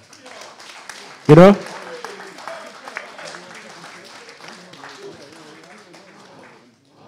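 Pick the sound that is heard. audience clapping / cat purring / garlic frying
audience clapping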